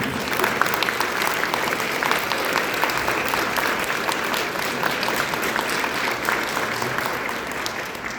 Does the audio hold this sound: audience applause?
yes